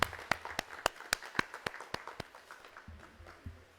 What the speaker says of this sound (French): Monsieur Élisée, que nous allons applaudir.